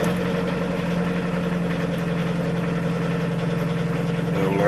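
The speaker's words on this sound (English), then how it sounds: "Gonna wait for the glow plug to go out, and she'll fire up," A VW T25 diesel engine runs at idle with a steady, loud, even clatter and low hum that holds constant throughout, with no sign of the starting moment.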